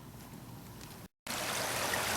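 Creek water flowing steadily at night, a continuous broadband rush and trickle, close and fairly loud, cut by a brief silent gap before resuming slightly stronger.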